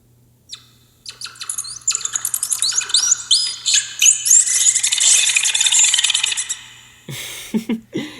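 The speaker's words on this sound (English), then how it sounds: "So those are all the squirrels and birds and stuff that have come back to the Silver Oak Forest." Video game forest ambience from Legends of Kingdom Rush: a dense burst of chirps, trills and squawks from the birds and squirrels of the Silver Oak Forest builds and then stops abruptly, with low background music.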